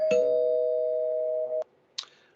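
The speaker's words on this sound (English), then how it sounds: "So I'll ring the spoiler bell for this." A bell strikes once and rings with a clear, sustained tone that decays for over a second before being damped, followed by a short sharp tap; played as a sound effect on a comic book discussion podcast.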